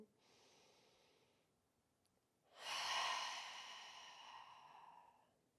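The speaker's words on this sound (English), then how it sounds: "Deep breath in." A slow, deep yoga breath, a soft faint inhale followed after a pause by a louder, longer airy exhale that trails off gradually.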